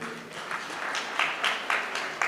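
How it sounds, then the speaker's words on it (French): An audience applauds at a talk about compas music, a spread of many hands clapping at moderate distance with a few louder bursts rising through the steady patter. "Je vais parler bien sûr de monsieur Bonsi, Ralph Bonsi, que je vous demande d'applaudir également."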